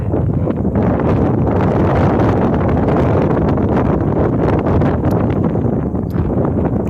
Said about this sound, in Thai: ลมครับท่านผู้ชม